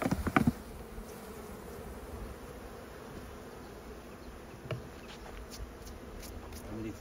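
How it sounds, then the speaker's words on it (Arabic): Honeybees being shaken off a hive frame holding honey and brood: a short rough jolt at the start, then a faint continuous buzzing drone from many bees nearby, with a few soft knocks. "الآن عملية تخليص النحل من الإطار، نهز"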